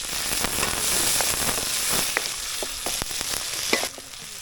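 Onion and tomato sautéing in a pan as aromatics for a Filipino coconut (buko) vegetable dish: loud continuous crackling sizzle with sharp pops and stirring clatter, close up, no talking.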